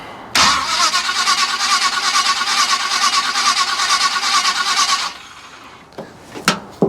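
A car starter cranks loudly and steadily for about five seconds, close by, then cuts out into quieter clicks and knocks afterward.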